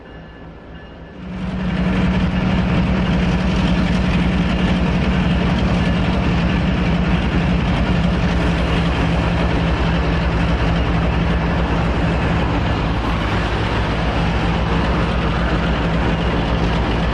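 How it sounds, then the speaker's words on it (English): Special firefighting train rolling along rails through California forest, a low steady rumbling drone that swells in after a second and holds loud and continuous to the end, with no voices. "a special firefighting train was used to hold back the flames in California's forests"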